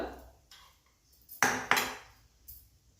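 Green chilies being mixed into sabudana vada batter in a bowl, a few sharp clinks of a spoon against the dish over quiet rustling, close and brief.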